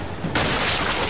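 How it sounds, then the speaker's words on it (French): Grenade blast in the video game Gears of War 5: a sudden loud burst that swells into a sustained, roaring, crackling wash lasting the rest of the moment. "Grenade."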